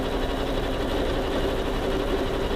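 A sewing machine stitches a fabric scrunchie, running as a steady, continuous motor hum with fine rapid needle vibration, close and unbroken.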